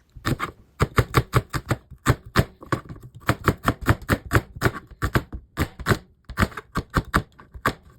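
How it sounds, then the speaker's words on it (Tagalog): A knife chops an onion on a board for pancit, with quick rhythmic clusters of crisp taps in bursts separated by short pauses, close and clear. "Sunod na hiwain ay yung sibuyas."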